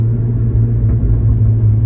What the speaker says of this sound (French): je vais downshift un peu